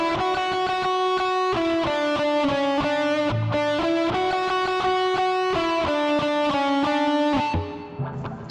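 Distorted electric guitar plays the closing phrase of a solo, a loud run of sustained, bending notes with steady picking that fades out at the end, with no voice.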